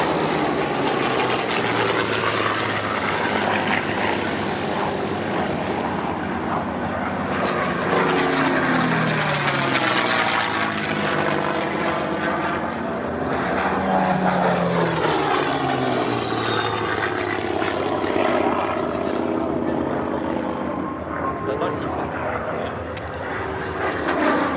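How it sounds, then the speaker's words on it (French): A WWII fighter named No Nonsense with a Rolls-Royce engine makes a whistling fly-by at an air show, a loud continuous propeller roar whose pitch sweeps up and down as it passes near, sustained throughout. "Il a le son du moteur Rolls-Royce en version courte."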